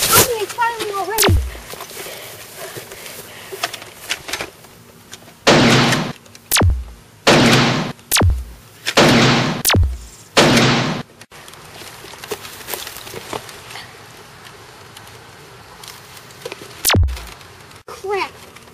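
Gunfire in an army setting: a series of sharp, close shots, some in quick clusters and others spaced apart, over a steady background rumble with someone talking now and then.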